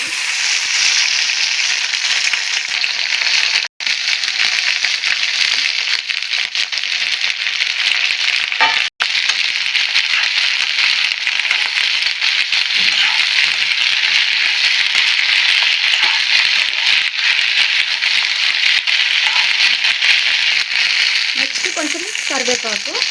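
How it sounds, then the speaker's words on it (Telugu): Okra sizzles and crackles steadily in hot oil in a kadai, a loud, dense frying hiss with a few stirring scrapes and brief dropouts. "బెండకాయలు అయితే ఫ్రై అయిపోతున్నాయి"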